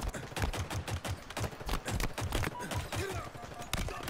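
Rapid gunfire from a Warthog vehicle turret in the shooter game Halo Infinite, a dense stream of loud repeated shots with explosions and game noise over a busy battle background.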